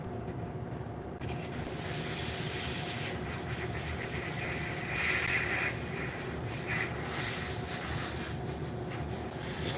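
An airbrush sprays primer onto model Sherman tanks in a steady, close, continuous hiss that starts about a second in and runs unbroken to the end.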